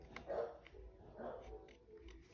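A tiny dog barks in two faint yappy bursts from a distance, each a short cluster of high yips, with quiet room noise between them.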